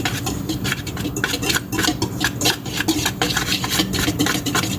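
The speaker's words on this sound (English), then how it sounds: "Whisk all this together." Dry muffin ingredients whisked in a bowl for blueberry muffins, a steady close scraping and rattling of the whisk against the bowl, continuous and fairly loud with a quick, even rhythm.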